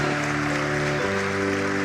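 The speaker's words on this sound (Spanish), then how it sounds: "Dale un aplauso." A church congregation claps steadily over sustained musical tones during a sermon, the applause dense and continuous.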